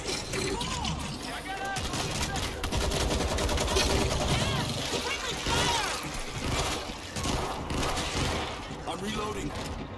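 Dense, continuous gunfire from the zombie shooter World War Z, rattling bursts and mechanical clatter filling the scene loudly, with voices shouting over the shooting.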